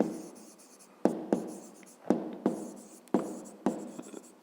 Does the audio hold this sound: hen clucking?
no